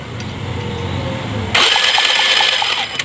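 A Piaggio Liberty scooter with a no-start fault cranks on its electric starter for about a second and a half, then the engine catches and runs in a close, loud, steady idle.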